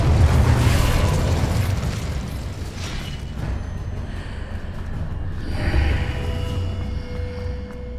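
Incendio fire spell blasts in Hogwarts Legacy, a loud whooshing, rumbling burst with a low roar that swells again near the end, dense and continuous with no talk.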